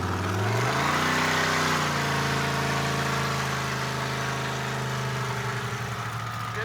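A car engine, the Roadkill project car Stubby Bob, idles and then revs up as the car pulls away, a steady loud mechanical drone rising in pitch and holding through the drive-off, with no talking.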